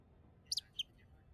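Faint bird chirps in a video game, a quick pair of high tweets followed by a third and a softer trailing note, heard alone over a quiet background.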